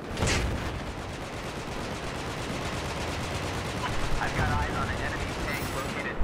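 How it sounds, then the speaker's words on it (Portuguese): Dense gunfire from the video game Battlefield 4 rattles in continuous rapid bursts from automatic weapons, loud and unbroken throughout, with a few sharper cracks standing out in the mix. "Eu errei o tiro ali."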